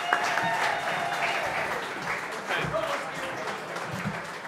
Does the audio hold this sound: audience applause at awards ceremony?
yes